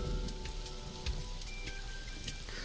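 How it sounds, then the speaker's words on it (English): Rain pelting a parasol in AI: The Somnium Files, a steady soft patter with scattered sharper drop taps over a quiet tonal background. "A parasol getting pelted by the rain."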